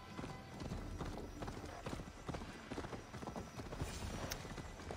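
Rapid hoofbeats of a galloping horse in the video game Assassin's Creed Valhalla, steady and close, with a faint voice mixed in underneath.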